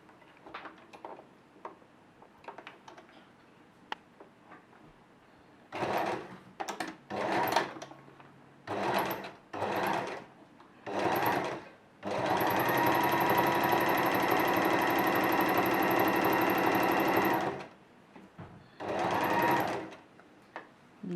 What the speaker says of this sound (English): we will go ahead and edge stitch along the bias tape